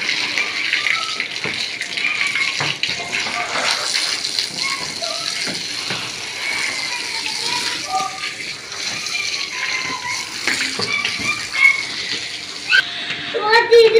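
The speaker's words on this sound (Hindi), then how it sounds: "आज जो है ना मैं फर्श धोऊंगी सारा" Running water gushes and splashes continuously while a floor is washed down with bleach and detergent water at home, loud and close, with a voice and other talk heard over it.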